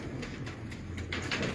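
Pigeons kept in a rooftop loft cooing softly, low throaty burbles repeating under faint background noise, with a few brief higher rustles or flutters near the end.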